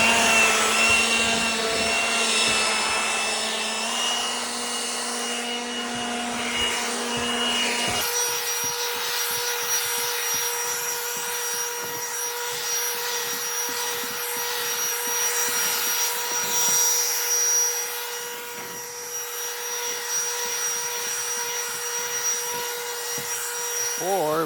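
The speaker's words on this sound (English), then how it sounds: "let's get the leaf blower out and carry this up and just do it" A leaf blower runs on a tiny house roof during waterproofing work, a continuous whining roar that shifts to a lower, rougher tone partway through and keeps going steadily.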